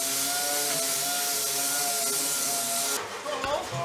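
A DA sander whirs steadily against an MG Midget body panel, a close, even hum with a constant tone, then stops abruptly near the end, leaving a few clanks and handling noises.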